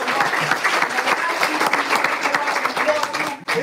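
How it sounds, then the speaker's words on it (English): A conference crowd applauds the event helpers, a thick continuous wash of clapping from many hands, loud and sustained with a faint shout or voice mixed in, cutting off abruptly near the end. "let's give them a round of applause too"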